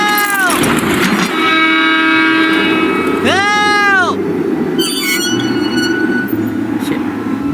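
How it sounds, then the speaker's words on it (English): A train pulls into a station in the game Deponia Doomsday, brakes squealing in long tonal whines over a steady loud rumble of rolling wheels, with a faint announcement-like voice mixed underneath. "Stand back and exercise caution as your train arrives."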